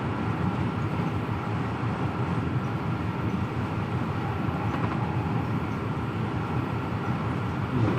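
A virtual train cruises the Trent Valley line from Nuneaton to Stafford in Train Simulator Classic, giving a constant low rumble and rolling wheel noise from the cab, unbroken and without speech.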